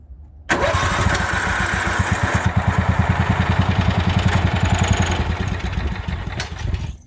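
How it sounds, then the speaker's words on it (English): A Craftsman LT 4000 lawn tractor's Kohler engine cranks after a carburetor replacement and fires up abruptly, then runs with a fast, steady chugging rhythm, loud and close, before easing slightly at the end. "So we're gonna push down the clutch and turn the engine on."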